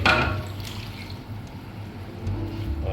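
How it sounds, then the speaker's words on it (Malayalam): Thin coconut milk, the third extract, poured into a pot of Onam ada payasam, giving a close, soft liquid splash at the start that settles into a low, steady trickle and gentle drips. "മൂന്നാം പാൽ ഒഴിക്കുകയാണ്."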